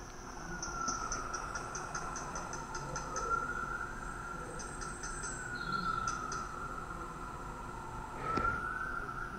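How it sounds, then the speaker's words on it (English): Played-back outdoor recording with a siren wailing faintly in the distance, over steady insect-like chirping and ambient hum, with a brief louder knock near the end. "We're picking up a siren"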